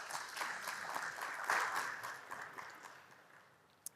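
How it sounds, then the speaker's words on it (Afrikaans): Audience applause for the Lapa Minnick Park group: steady, fairly distant clapping from a crowd that swells around the middle and then thins out toward the end. "Kan ons vir hulle hande klap gee?"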